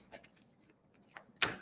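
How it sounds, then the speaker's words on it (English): Psychic Tarot cards being shuffled by hand, a few soft riffling bursts with a sharper snap near the end, close and quiet with no talking. "I'm just giving these a good shuffle for you, Kat,"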